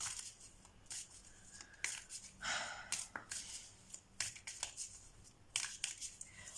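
Soft riffling and flicking of tarot cards being shuffled in irregular bursts, close up and fairly quiet, with breathy pauses between.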